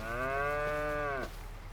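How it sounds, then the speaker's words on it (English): Mature beef cattle in the Farming Simulator 25 video game give one long, loud, steady moo lasting over a second, followed by quiet ambient background. "We already have beef cattle and they are quite mature."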